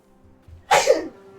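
A single sharp sneeze bursts out close by, loud and breathy, preceded by a faint intake of breath and fading quickly into quiet.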